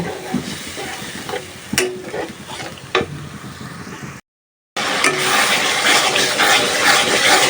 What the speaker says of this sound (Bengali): রোস্টের জন্য মশলাটা ভালোভাবে কষায় নিছি